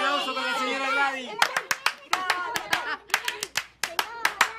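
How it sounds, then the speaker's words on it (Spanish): A voice speaks, then a small audience claps for Señora Gladys, a dozen or so crisp, separate hand claps at an uneven pace, close and clear. "¡Un aplauso para la señora Gladys!"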